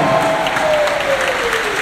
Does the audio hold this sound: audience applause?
yes